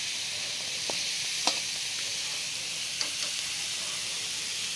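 Chicken roasting over low charcoal embers gives a steady, close sizzle with a soft hiss, and a few faint pops and crackles break in now and then. Nobody speaks.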